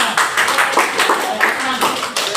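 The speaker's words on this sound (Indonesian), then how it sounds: "Kita kasih tepuk tangan untuk semua." Students clap together in a junior high school mathematics classroom during a geometry transformation lesson, a loud, somewhat rhythmic burst of many hands close by filling the whole stretch, with voices mixed in.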